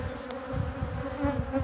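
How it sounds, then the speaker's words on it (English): Buzzing of many honeybees returning to their colony with feed, a steady close-up hive hum with layered wingbeat drone and slight swells in loudness throughout. "these bees which are returning with feed"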